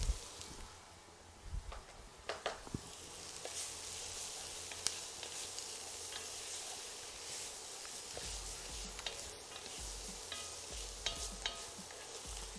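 Onions sizzling and frying in a pan of tomato-based sauce, with a steady close hiss and occasional stirring scrapes and clicks throughout.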